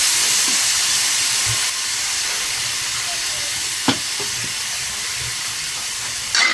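Fish and soy sauce sautéing in a pan give a steady sizzling hiss, with faint clinks of a utensil.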